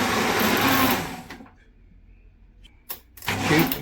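An electric blender whirs loudly as it blends a mango and banana smoothie with yogurt and double cream. The motor stops for a stretch of near-quiet, then starts again.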